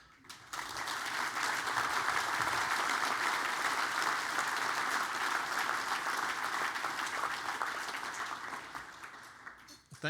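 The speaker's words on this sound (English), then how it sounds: "thank you for your applause" Sustained audience applause after remarks at a University of Scranton event, a dense steady wash of many hands clapping close by that rises quickly, holds for nearly ten seconds, then tapers off near the end.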